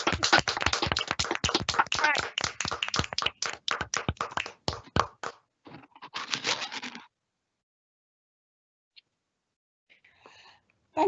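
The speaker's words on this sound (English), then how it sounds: "this is a moment to applaud" A conference audience applauds an honorary life membership award with a burst of close clapping that thins out and stops after about seven seconds, leaving near silence with a few faint sounds.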